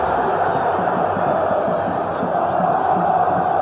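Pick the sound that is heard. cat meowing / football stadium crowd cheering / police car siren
football stadium crowd cheering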